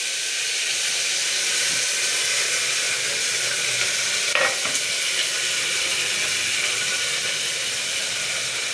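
Dry chilli and cumin tempering in hot oil for a vegetarian daliya khichdi, a steady broadband sizzle and hiss running throughout with a brief louder crackle near the middle, no voices.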